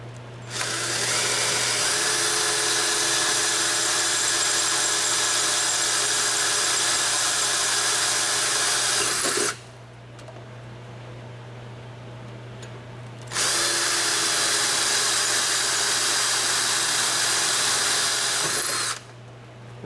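A power drill with a wobbly bit drills 1/8 inch holes, whining loudly in two long bursts with a pause between, steady high-pitched motor sound close by.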